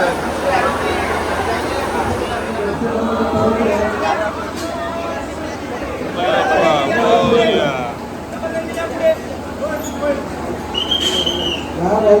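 Busy underground metro station ambience at Mumbai's Aqua Line Siddhivinayak station, with a rumbling train and screeching wheels, people chattering throughout in a crowded, echoing space.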